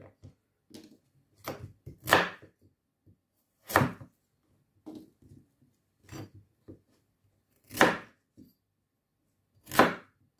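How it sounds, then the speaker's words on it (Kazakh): A knife chops pumpkin finely on a board, sharp distinct thuds at irregular intervals about a second or two apart, close and clear with quiet scraping between strikes. "Осылай ұсақтап турап алып, қабықтарын алып тастаймыз."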